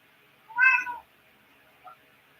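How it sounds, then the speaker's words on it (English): A house cat lets out one loud, drawn-out meow lasting about half a second, close and clear, followed by a much fainter short chirp a second later in an otherwise quiet room. "That's my loud ass cat."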